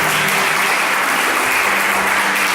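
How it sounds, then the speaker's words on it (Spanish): A church congregation applauds loudly and steadily, a dense wash of many hands clapping at once, with no speech over it. "Dale un fuerte aplauso a Jesús."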